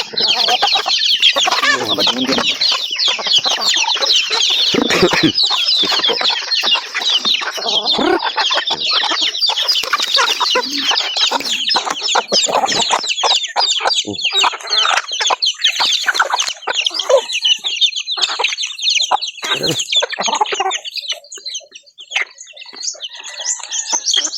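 Many chickens clucking and squawking at once while being fed, a loud, dense, continuous chorus close by with busy overlapping calls.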